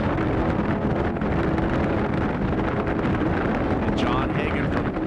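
Offshore powerboat racing engines roar onboard the Team AMF raceboat at the Miami Grand Prix, a loud, steady wall of engine and wind noise throughout with water spray and no pauses.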